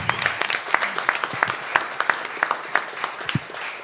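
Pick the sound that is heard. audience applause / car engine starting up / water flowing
audience applause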